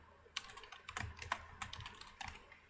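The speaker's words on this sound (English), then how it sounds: "if you feel that my typing speed is slow, the reason being like I have a mic in front of my keyboard" Fast typing on a computer keyboard with a microphone placed right in front of it, giving a string of close, crisp key clicks in uneven bursts with a few louder strikes.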